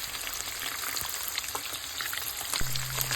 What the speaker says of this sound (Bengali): এবারে মাছগুলোকে উল্টে পাল্টে সুন্দরভাবে ভেজে নিতে হবে